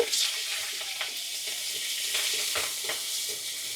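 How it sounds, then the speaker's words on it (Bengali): Green chilies and nigella seeds fry in hot oil with a steady close sizzle, broken by a few soft stirring scrapes; no one speaks. "কালো জিরের সঙ্গেই কাঁচা মরিচটা দিয়ে দিবেন, তাহলে ফ্লেভারটা অনেক ভালো আসে।"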